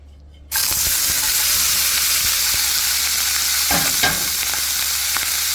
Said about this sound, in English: Then I'm gonna fry this up until it is crispy.